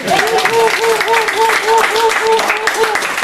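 A church congregation claps in rhythm while a voice chants or sings a repeating melodic phrase over the top, the clapping loud and continuous with a regular pulse.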